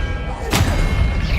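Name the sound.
Descendo spell effect in a Harry Potter video game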